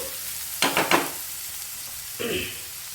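Onions fry in a pan for a Bhimavaram-style chicken buttermilk curry, giving a low background sizzle broken by two quick stirring scrapes early on and one more near the end.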